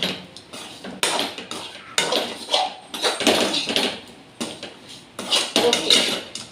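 Vegetables stir-fry in oil for a Tamil sundakkai kulambu, with a close, lively mix of sizzling and repeated clinks and scrapes of a metal spoon against the pan. The stirring comes in irregular bursts, and nobody speaks.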